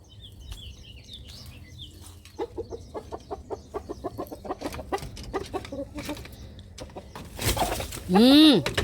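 Chickens cluck in a rapid, rhythmic series, close by, followed by a louder squawk near the end, with faint voices in the background.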